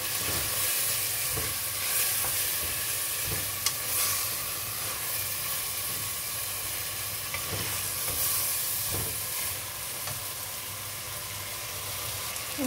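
Meat grilling in a pan seasoned with saffron, a steady close sizzle and crackle of frying with occasional stirring clicks and scrapes, continuous throughout with no talk.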